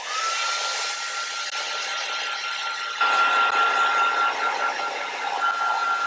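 A hair dryer blowing steadily to dry stamped ink on a craft project, a constant whirring hum close to the ear that steps up louder partway through and keeps running, no speech.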